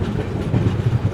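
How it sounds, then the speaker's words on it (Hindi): The Andhra Pradesh SF Express, running from New Delhi to Visakhapatnam, pulls into Peddapalli Junction with a loud, close, low rumble of rolling wagons. The rhythmic rumble continues steadily for a brief moment. "ट्रेन जो है अपनी पेड़ापल्ली जंक्शन पहुंच रही है"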